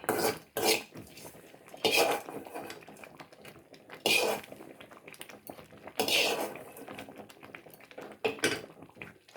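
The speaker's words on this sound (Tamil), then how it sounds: "தேங்காய் இதில் போட்டு நல்லா கிளறி விட்டுருக்கலாம்" A spoon stirring horse-gram millet payasam with ghee-fried coconut in a pot, several distinct metallic scrapes and clinks at irregular intervals, close and fairly quiet.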